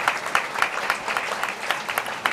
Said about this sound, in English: a round of applause as the players come back towards this main stand side